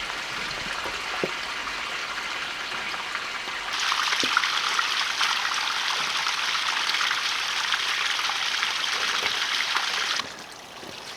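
Water drains out of a tank at an off-grid cabin after a snowstorm, a steady rushing trickle that swells louder partway through, holds for several seconds, then drops back to a softer flow, with no talk.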